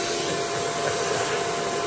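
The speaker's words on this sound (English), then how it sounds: "Oh, the vacuum is actually sucking the mist in. That's why it's not coming down. That's how strong the vacuum is." A DIY carpet extractor vacuum pulls water mist into its intake with a steady, close, whooshing roar and a high whine, constant and unbroken for the whole short moment.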